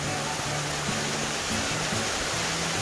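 A mountain waterfall at Geumgang Falls on the Hangyeam trail, running full after rain, pours with a steady, close, broadband roar and no voices.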